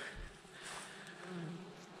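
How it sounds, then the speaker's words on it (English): Bees buzz softly at a distance in a quarter-acre garden, a faint steady hum with one drone briefly passing a little closer. "The bees are always the star of the show"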